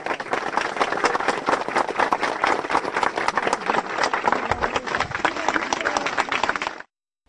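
Mourners at a funeral give heartfelt applause, a dense, steady wash of many hands clapping that carries on without a break for nearly seven seconds, then cuts off abruptly.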